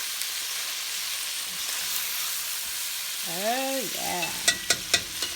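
Chicken cacciatore sizzles softly in a pan while being stirred, with a quiet, steady hiss; someone speaks briefly, followed by a few sharp taps of a utensil against the pan.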